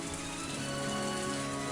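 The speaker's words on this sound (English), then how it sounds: "As I looked up, I felt the raindrops hit my face." Steady rain pours without pause in the Higurashi visual novel, a dense even hiss of drops on a surface with no voices over it.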